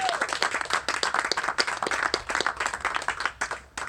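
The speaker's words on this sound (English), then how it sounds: "I'm just gonna pause and let you clap" An audience claps at a Sonoma winegrowers' sustainability event: distinct individual hand claps, fairly close and crisp, forming a brisk irregular patter that thins out near the end.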